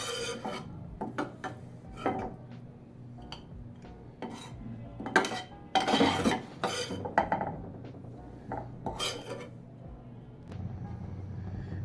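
Dry-roasted fenugreek seeds for methi laddu being scraped out of a pan onto a plate, giving clinking and rasping metal-on-metal scrapes in irregular bursts, close and fairly quiet, with no talking.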